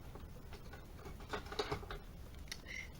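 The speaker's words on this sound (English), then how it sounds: "Always pays to have a pair of scissors handy." Faint, close rustling and crinkling of plastic with small snips and scratchy handling sounds, quiet and irregular.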